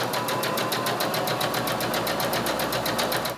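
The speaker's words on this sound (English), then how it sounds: "you're going to sew 1/4 of an inch from the edge" A sewing machine stitches a quarter-inch seam through pieced quilt fabric using a quarter-inch quilting foot, making a fast, steady mechanical whir with rapid even clicks at close range and no talking.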